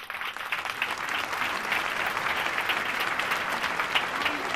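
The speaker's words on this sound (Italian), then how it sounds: "qui vorrei un applauso dedicato a Carlotta Bottazzi" Audience applause at a singing contest awards moment in Rivanazzano Terme, a continuous, even roar of many hands clapping with no voices, steady from start to finish.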